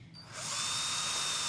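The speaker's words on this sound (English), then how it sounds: "Remember to drill through at the same angle as the tank." A power drill fitted with a 4mm bit bores a hole through a tank. After a brief quiet start, the drill rises to a loud, steady whine that carries on to the end.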